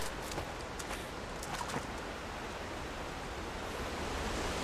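Steady rushing roar of a waterfall inside the game Rise of the Tomb Raider in the Geothermal Valley, broadband and continuous at moderate level, with no talking over it.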